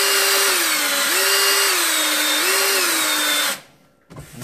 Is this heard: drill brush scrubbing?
yes